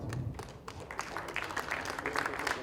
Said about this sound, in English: Guys, continue clapping,